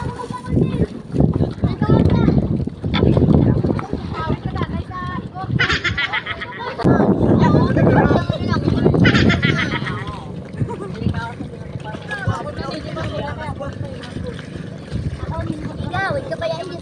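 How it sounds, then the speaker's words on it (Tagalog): A motorboat runs across open sea in the Philippines, its steady engine drone mixed with wind buffeting the microphone and water splashing against the hull, while children and adults talk over it throughout. "dito nga ay nakasakay na tayo sa bangka ng China"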